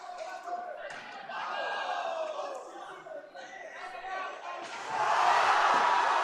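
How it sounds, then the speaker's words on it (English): Crowd at a Supervisor's Cup ice hockey game in Bethpage rises after a big hit, a steady roar of cheering and chatter swelling louder near the end. "Big hit there from Spanos, gets a rise out of this crowd"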